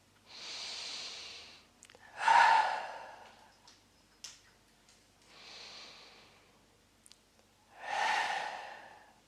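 Deep breathing during a yoga session: two slow cycles of a long inhale followed by a heavier, breathy exhale, close and fairly quiet, with only faint clicks between the breaths.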